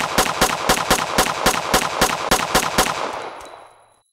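Rapid gunfire from a VR SWAT shooter, Anarchy SWAT VR: about a dozen sharp, evenly spaced shots in a fast burst, loud and close, ending in a fading ring-out.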